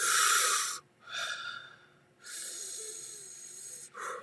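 Deep, slow breaths drawn in and pushed out close to the mic, three long airy exhales with short pauses, loud and unhurried.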